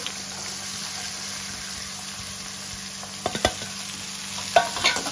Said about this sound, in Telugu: కొద్దిగా చిల్లీస్ ఫ్రై కావాలా